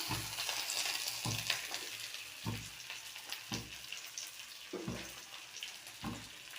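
Soaked, rinsed dried fish hits a hot frying pan with a soft, steady sizzle, punctuated by rhythmic scraping thumps of stirring, fairly quiet and close.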